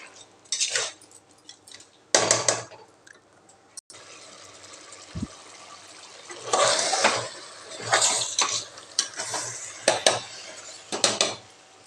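Rice, coconut milk and spices for chicken biryani mixed in a metal pot, irregular bursts of scraping and clattering against the pot separated by brief quiet gaps, close up with no speech.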